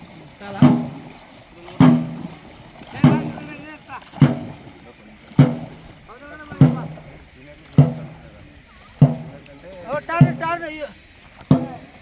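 Dragon boat racing crew paddling in water, rhythmic paddle strokes and splashes about every second and a bit, close by, with people talking and calling over them.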